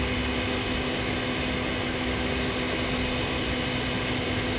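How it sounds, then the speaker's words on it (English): An electric stand mixer whipping pavlova meringue on high speed, a steady loud motor whir with a constant hum, running unbroken and alone throughout. "This is a great mixer. It's not too loud. I'm going to turn it on high so it'll go a little quicker."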